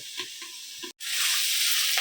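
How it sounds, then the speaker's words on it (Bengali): Potatoes and onions frying on low gas in a covered pan, a brief muffled sizzle with soft scraping, a short gap, then a loud bright hissing sizzle as the frying swells up. "এই যে আলু আর পেঁয়াজ কইটা একটু ভাজা ভাজা হয়ে এসছে"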